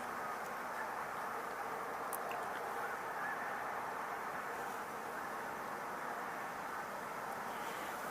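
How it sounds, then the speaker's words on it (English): Canada geese honk repeatedly at a distance over a steady, noisy outdoor background, the calls fairly faint and blending together. "Canada geese nearby."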